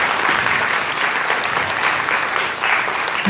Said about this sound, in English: So a huge round of applause to the parents.